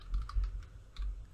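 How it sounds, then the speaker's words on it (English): Keys tap on a computer keyboard in a few quick, soft clicks with short pauses between them, close and quiet, with no talking. "which we can get by typing in"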